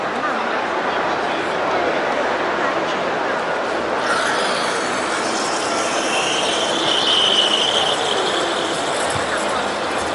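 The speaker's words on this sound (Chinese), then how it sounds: "然后我们现在来打一下奶。" A commercial espresso machine's steam wand froths milk in a metal pitcher at a Shanghai hotel equipment expo, a loud, continuous hissing roar that shifts into a higher, swirling whine partway through, with crowd noise in the hall around it.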